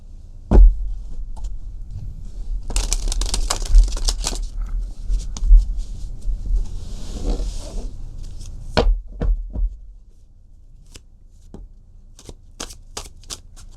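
Tarot cards being shuffled by hand in a run of dense riffling bursts from about two to ten seconds, with sharp separate snaps and taps of cards laid down before and after, close and fairly loud with no talking.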